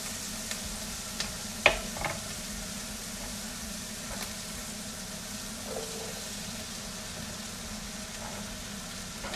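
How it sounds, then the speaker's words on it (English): Onions sizzle in hot butter in a pan, a steady, faint frying hiss with a few soft stirring clinks and taps near the start. "Throwing in the onions now."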